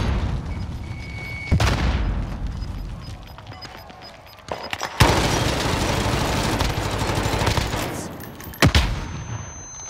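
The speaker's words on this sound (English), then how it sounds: "Throw and frag grenades." Frag grenade explosions in a Call of Duty Gulag match, several sharp booming blasts with bursts of gunfire between them, loud and close, set against a low rumbling game backdrop.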